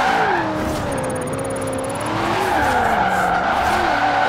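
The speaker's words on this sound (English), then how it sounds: "Ford Mustang ripping up some of these city streets" A Ford Mustang tearing through city streets in Forza Horizon 4, its engine droning and wavering in pitch under a continuous loud tire skid and squeal, close and sustained throughout, with no voices.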